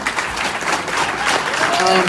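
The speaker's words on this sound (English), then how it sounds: "Have a round of applause for Josh, Luke, Dan, Carey, Derrick, and Jason." An audience at an alt media panel claps for the panelists, dense close applause building slightly over two seconds, with voices mixed into the crowd.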